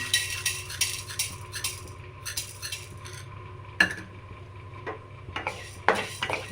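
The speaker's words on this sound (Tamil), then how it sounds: "பருப்பு நல்லா பொன்னீர்மா வறுக்கணும்" A metal spoon stirs urad dal as it dry-roasts in a pan, making repeated scraping clinks and sharper knocks in an irregular rhythm over a low background hum, close and fairly quiet.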